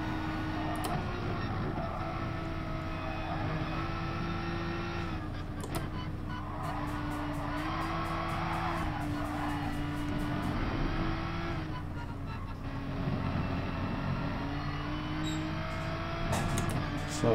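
A race car in GT Sport spinning its wheels in third gear, a steady droning engine tone with slight pitch wobbles as the tires break traction, held at a constant level throughout.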